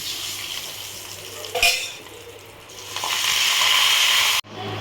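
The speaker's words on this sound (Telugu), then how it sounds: "పప్పు పోపేస్తున్నా" Dal being tempered in hot oil for a raw-mango dal, a steady sizzle and frying hiss that surges loudly partway through, with faint stirring and utensil clinks, no talk.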